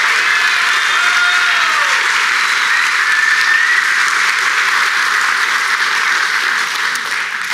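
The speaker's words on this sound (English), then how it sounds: "Can we give her another round of applause for her first ever talk?" Sustained audience applause fills a conference hall after a speaker's first talk at a developer conference, a dense, even wash of clapping holding steady and loud throughout with no voices over it.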